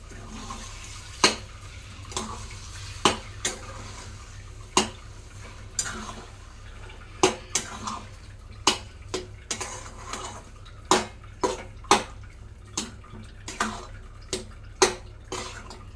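A spoon clinks and scrapes against a pan at irregular intervals while semolina mango halwa is stirred, sharp metallic taps over a low steady hum, no talking.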